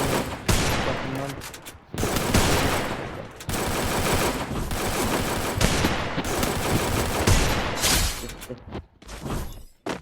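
Rapid bursts of automatic gunfire and fusillades from the Free Fire battle royale mobile game fill the stretch, loud and dense with brief gaps, and faint voices mixed underneath.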